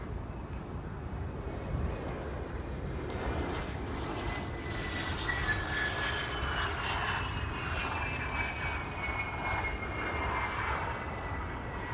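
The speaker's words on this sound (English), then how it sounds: "BizJet landing on runway 27, nice." A business jet landing on runway 27 at Amsterdam Schiphol Airport gives a steady, moderately distant engine roar with a whining tone that holds through the whole stretch, with no one talking.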